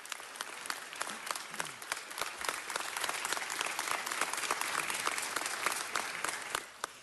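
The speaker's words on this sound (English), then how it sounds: "Let's give him another round of applause to James Featherstone" A round of applause from a meeting audience honoring a fire chief, dense clapping building slightly and continuing steadily with a few sharper individual claps standing out near the end.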